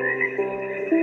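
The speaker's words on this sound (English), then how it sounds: "So you want to have a lullaby and frogs." A sleep sound machine plays frog croaking mixed with a soft lullaby, the croaks coming as a steady close rhythmic chorus over sustained tones, with no talking.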